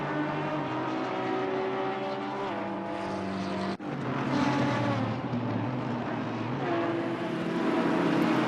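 Aston Martin GT3 race cars in a sim racing game drone past with layered engine whine and shifting pitch, one car changing gear abruptly midway before the engines build again.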